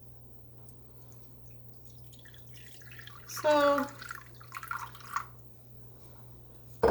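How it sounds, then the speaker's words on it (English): Water pours briefly into the bottom of a baking pan for baked apples, a short splashing burst rising out of a quiet kitchen, with a few faint trickles after. "I just fill up on the bottom of my baking pan here with water."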